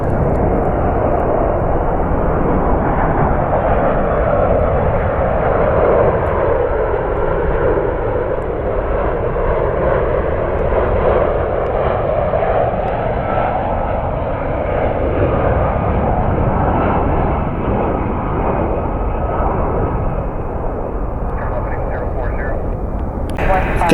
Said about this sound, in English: Another United flight 109 inbound from Munich.